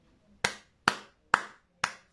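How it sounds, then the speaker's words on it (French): One person claps four times at an even, unhurried pace, each clap sharp, close and isolated against near silence. "Et puis, il applaudit."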